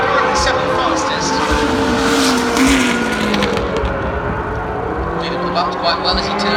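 Formula 1 race cars on the Austin circuit, engines droning with shifting pitch as a car heads downhill into turn 1, loud and continuous under a commentator's voice.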